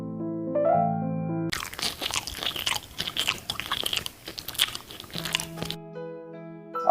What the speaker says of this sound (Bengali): নীলার মা বিরিয়ানিটা খুব স্বাদ হইছে